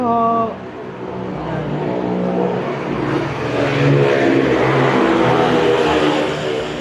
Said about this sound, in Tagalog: Ang iingay ng mga motor.